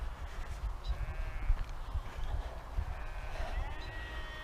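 Sheep bleating on open moorland along the Pennine Way in the Peak District, a few faint, distant calls rising over steady wind and outdoor background noise.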